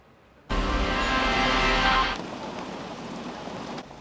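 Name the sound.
heavy rain pouring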